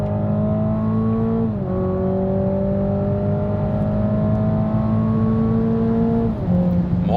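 Toyota GR Supra 2.0 four-cylinder engine accelerating in sport mode, a loud steady drone rising in pitch through each gear with two brief dips at upshifts, heard from inside the car with no talk.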